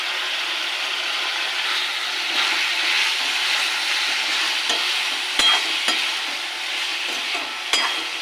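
Flat beans fry with salt and turmeric in a pan, making a steady, close hissing sizzle with a few sharp clicks of the spatula toward the end and no speech.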